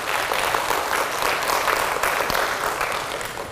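Dense, steady applause from an audience at a talk event in Pingtung, many hands clapping together loudly and evenly throughout, with no voices on top.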